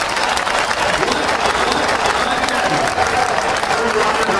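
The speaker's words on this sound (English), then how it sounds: "The crowd relieving themselves after seeing the video of Robert Height climbing out on the big screen" Drag racing crowd at an NHRA funny car event cheering and applauding after a crash, a loud, dense wall of clapping and cheers from a large grandstand, with voices mixed in.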